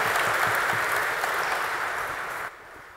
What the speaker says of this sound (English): Can we have a big round of applause for all the panelists?